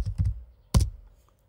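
Keys tapped on a computer keyboard to type into a search box, a few quick clustered keystrokes followed by a single firmer tap, close and alone with no talk.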